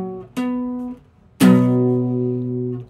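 Two guitar chords ring out, the first brief and cut off, the second struck firmly and left to sustain clearly.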